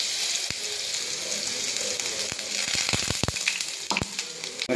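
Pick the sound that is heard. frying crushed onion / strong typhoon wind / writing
frying crushed onion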